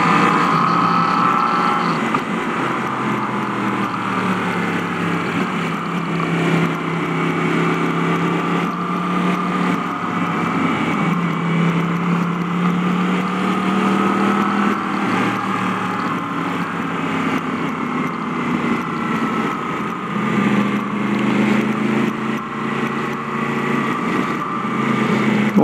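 A Yamaha MT-10 motorcycle on the road gives a steady, droning engine note that rises and falls gently as it is ridden, heard up close with continuous wind noise and no talking.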